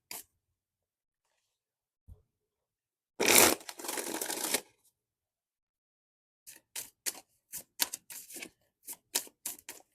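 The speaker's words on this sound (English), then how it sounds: "I like to shuffle all the way through" A tarot card deck being shuffled by hand, one long riffling burst early on and then a run of short, crisp card snaps and flicks in quick succession, close and fairly quiet.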